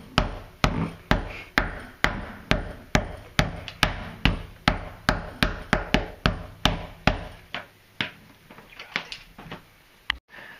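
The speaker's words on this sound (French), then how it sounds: "on peut augmenter l'efficacité de l'adhérence avec un petit marteau" A small hammer taps glued shoe materials to press the adhesive bond, striking about twenty-five sharp, evenly spaced knocks at roughly two per second before the tapping thins out and stops near the end.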